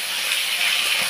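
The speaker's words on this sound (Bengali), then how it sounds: "এবার আমি মাথা দুটো ভেজে নিচ্ছি।" Hilsa fish heads frying in hot oil, giving a dense, even hiss that holds steady and close for about a second.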